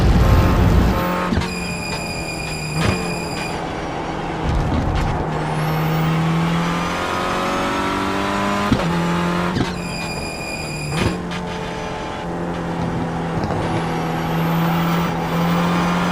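Renault Clio race car in iRacing running over trackside curbs, a steady loud engine drone with rising gear whines and sharp repeated kerb rattles and thumps, no talking.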